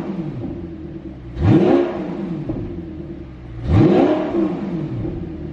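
Two deep engine revs of an Audi R8 with an app-controlled exhaust, valves open, swell and fall back to a low idling rumble, heard from inside the car, strong and close.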